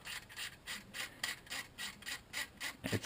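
Quiet, rhythmic rasping strokes of a knife blade held at a right angle scraping across a carved wooden model tank gun, about three per second, close and steady.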